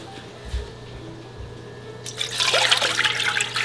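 Apple juice poured into a stock pot for waterbath canning, a quiet start giving way to a sudden, steady rushing pour in the second half.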